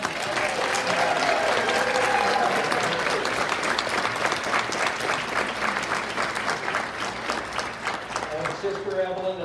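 Audience applause at a Grand Organist and Grand Warder reception, sustained dense clapping from a crowd indoors, loud and steady before tapering off with a few voices at the end.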